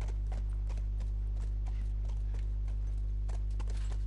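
Horse hooves clip-clop in a steady, even rhythm at moderate distance, over a constant low electrical hum.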